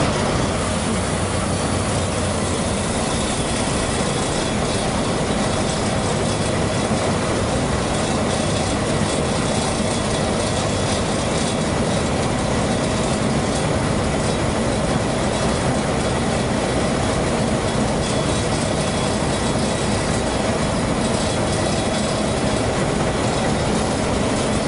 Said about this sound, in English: So we'll turn our lever for our calibration motor.